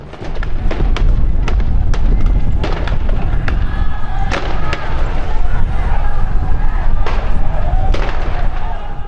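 Gunshots ring out during a prison massacre in Alcacuz, Brazil, as a loud, dense run of sharp cracks and thuds over a constant roar of crowd noise and commotion.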